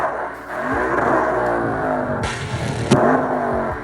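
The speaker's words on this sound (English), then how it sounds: "so this is what it looks like with only the flame kit on" A car with a long-tube header and exhaust flame kit revs hard, a loud, steady engine roar rising and falling in pitch, with a couple of sharp popping bursts from the exhaust partway through.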